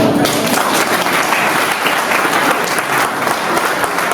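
Loud, continuous applause from the guests at a civil wedding ceremony in front of the registrar, a dense wash of many hands clapping without pause.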